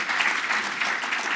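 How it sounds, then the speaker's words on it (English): A conference audience at a credit and collections technology event claps steadily for a speaker, a dense, even burst of applause heard alone and close. "let's give Chris a round of applause"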